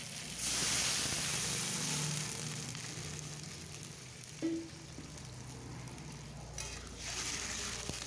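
Water goes into a pan of hill sweet potatoes frying in mustard oil with turmeric and salt. A loud hiss bursts up and settles into a softer, steady simmer, broken once by a light clink.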